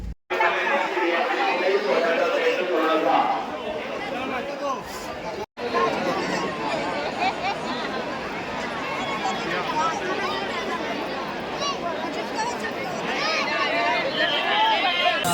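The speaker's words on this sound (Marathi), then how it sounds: "सो गर्दी फारच जास्त होती." A dense crowd at a temple entrance fills the air with steady, close chatter, many voices overlapping continuously with only a brief dropout.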